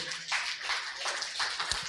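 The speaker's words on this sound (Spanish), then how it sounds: "Dele al Señor un fuerte aplauso, hermano, hermana, por favor" Congregation applauding during a church worship service, a dense continuous wash of many hands clapping together for about two seconds, steady and fairly loud with no voices over it.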